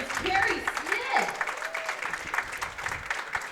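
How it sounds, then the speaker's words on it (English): Crowd applause at a PWBA Myrtle Beach regional bowling finals, a steady patter of clapping from an audience in a bowling center, moderately loud with a voice speaking over it. "A huge round of applause to our 3rd place finisher, Miss Carrie Smith."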